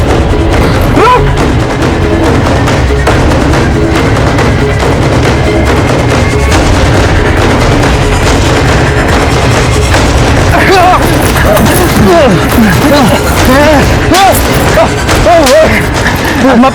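Gunfire in a crime drama scene, a dense, loud stretch of booming shots and crashes running throughout, mixed with shouting voices and dramatic background noise.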